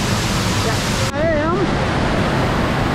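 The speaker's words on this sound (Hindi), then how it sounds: "वही शतरंग फॉल।" Shatrang waterfall in Meghalaya pours in a constant, dense rush of falling water, loud and near, while a voice briefly murmurs over it.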